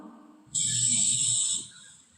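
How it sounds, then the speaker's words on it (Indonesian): A person snores once, a single rasping breath lasting about a second that rises sharply out of a quiet room and then fades away. "Akang ngorok."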